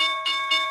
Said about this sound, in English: Oh, there's the bell, buddy.